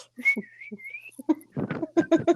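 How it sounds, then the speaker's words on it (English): Someone whistles a short, thin, wavering tune, then speech-like chatter and laughter follow close by. "you can't whistle around me"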